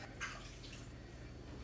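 Water runs into a cooking pot holding whole unpeeled potatoes in a home kitchen, a faint, soft splashing stream, quiet and steady, with a slightly louder splash near the start.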